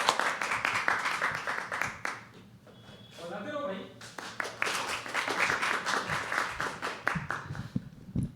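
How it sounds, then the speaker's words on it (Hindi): Audience clapping at a poetry open mic at The Habitat, loud sharp claps from a small crowd at first, a brief lull with a voice speaking, then clapping resuming alongside talk. "जोरदार ताली।"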